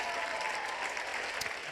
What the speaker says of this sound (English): Hold the applause, please.